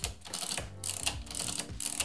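Film advance lever on a Pentax 6x7 medium-format camera being cranked without film, giving repeated close mechanical ratcheting clicks and gear whirs in quick bursts, with no speech.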